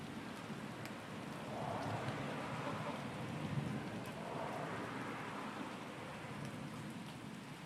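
Heavy rain falling steadily during a big thunderstorm, a dense wash of rain noise at moderate distance with faint rumbling swells beneath, no voices.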